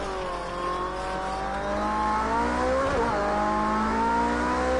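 A hypercar engine, a LaFerrari, Porsche hybrid or McLaren P1, howls at high revs around a track corner, pitch sliding down and climbing back as it brakes and accelerates, loud and steady with no talking.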